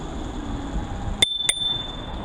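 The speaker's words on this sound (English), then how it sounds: "Bell comes with the bike," Two quick, bright rings of the stock bicycle bell fitted to a 2019 R&M Homage Step Thru e-bike, struck about a quarter second apart and heard close over a steady low road and wind rumble.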